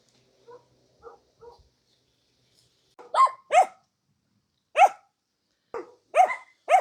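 Dogs bark on a countryside walk in Italy: three faint, distant yaps first, then a pause and a series of louder, nearer barks in irregular pairs, with no talking.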